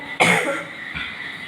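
A single sharp cough up close, followed by a fading breathy tail and faint room noise.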